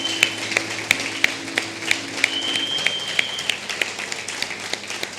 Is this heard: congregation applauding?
yes